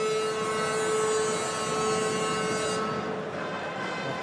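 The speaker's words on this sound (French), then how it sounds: "Vous entendez la sirène." A loud, sustained stadium siren wails at a Top 14 rugby match between Montpellier and Clermont, a steady tone that drops away near the end over crowd ambience.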